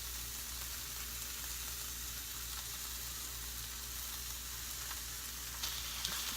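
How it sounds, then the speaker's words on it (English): Pieces of pork sear in a hot pan with a steady, dense sizzle that stays even and close throughout, with a faint scrape or two near the end and no talking. "And sear the sides real fast."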